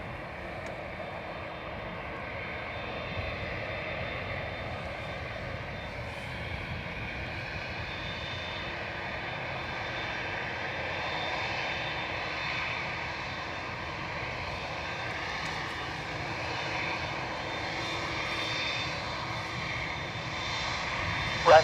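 Steady airliner engine roar from a Qatar Airways Boeing 787 Dreamliner at Dublin Airport, a continuous broadband rumble with a faint whine, heard from a distance and holding level for over twenty seconds.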